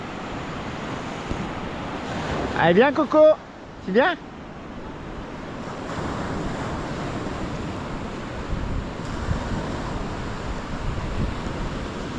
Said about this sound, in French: Eh, des vagues là quand même, hein.